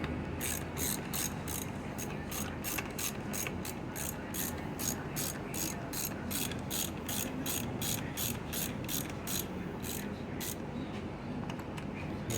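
A hand ratchet tightens carburetor mounting bolts, giving a fast, even series of sharp clicks that runs steadily for the whole stretch, close and loud over a faint background rumble, with no voices.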